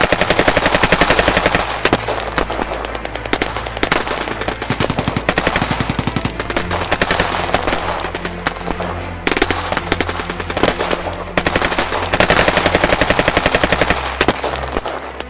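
Sustained machine gun fire rattles continuously in loud rapid bursts with barely a pause, a dense, close barrage of shots throughout as a small village is raked with bullets.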